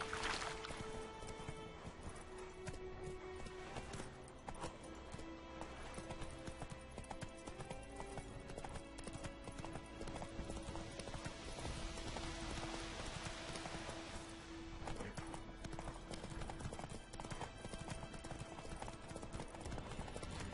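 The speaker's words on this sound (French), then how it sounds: "Hiha, un petit cheval." Horse hooves clip-clop steadily in The Witcher 3 video game, a continuous rhythmic trot set among dense game music and ambience, with an occasional whinny and faint talk.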